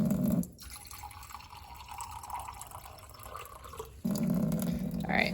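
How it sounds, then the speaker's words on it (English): Water trickles and drips through soil after about 100 milliliters has been poured in, a faint, steady wet patter with louder splashy stretches at the start and end. "We can see that it's already dripping through."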